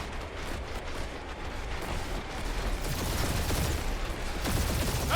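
Rapid automatic turret fire in the video game Marvel's Guardians of the Galaxy, a dense, continuous rattling barrage that grows louder and fuller toward the end, with no voices over it.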